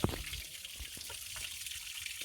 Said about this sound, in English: We're just going to top up from this little trickle here.